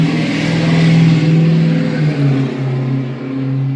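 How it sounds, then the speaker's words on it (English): A nearby car engine revs loudly with a rough, droning exhaust note that rises and settles in pitch, steady and prominent throughout. "Oh, that car sounded like shit."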